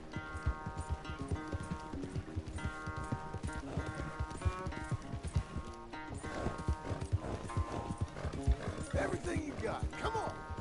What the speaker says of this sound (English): Where's that big mean horse?